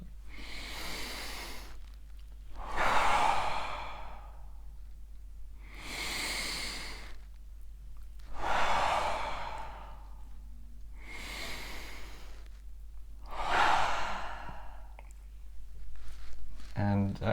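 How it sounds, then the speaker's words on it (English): Slow, deep breaths are drawn in and let out in about four long, even cycles, each a soft airy hiss close to the mic with quiet gaps between. "So you try to just breathe in super deeply and then let everything out on the exhale."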